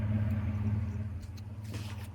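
A 1998 Toyota 4Runner with newly replaced rear brake lines and cylinders drives on a test run, its engine giving a steady low rumble close by with faint road noise.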